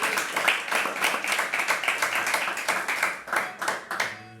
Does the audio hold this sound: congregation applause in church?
yes